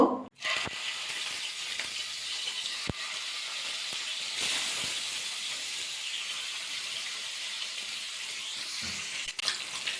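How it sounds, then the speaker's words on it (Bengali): Catla fish sizzles steadily in hot mustard oil in a pan, a constant close hiss with a few sharp pops and clicks, no voices. "মাছগুলো ভাজা করে নেব"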